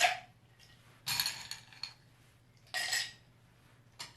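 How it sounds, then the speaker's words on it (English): Ice cubes clinking into a glass while a pink gin is mixed, three separate bright clattering drops spaced about a second apart, with quiet pauses between them. "Alright, so now we'll add some ice"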